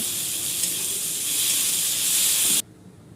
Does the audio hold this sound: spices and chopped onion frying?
yes